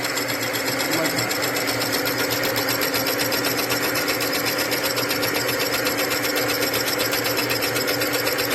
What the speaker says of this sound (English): So you can see how easily it cuts the material.